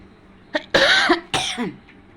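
A person coughs at close range during a cooking session: one short cough followed by two longer, harsh, raspy bursts, loud and alone with no talk over them.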